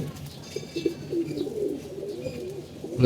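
Pigeons coo softly nearby, low throaty warbling calls repeating throughout.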